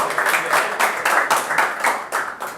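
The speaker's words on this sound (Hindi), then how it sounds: "भाई जोरदार ताली बजा के वेलकम करो यार" An audience at a stand-up comedy show in Kanpur gives a short, lively burst of applause, with claps coming in quick pulsing waves.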